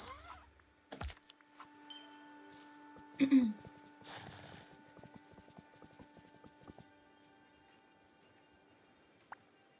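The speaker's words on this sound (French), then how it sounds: "Cassinia, ton cheval est super. et a l'air content de porter sa nouvelle selle." Sparse hoof clip-clops from a horse in Disney Dreamlight Valley, mixed with soft clicks and a low steady hum; a brief louder burst and some chatter-like noise appear early.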